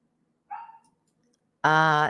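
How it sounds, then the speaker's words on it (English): A neighbor's dog barks close by: a brief, higher yip comes first, then after a pause one loud, drawn-out bark that fills the end. "My neighbor's dog is barking."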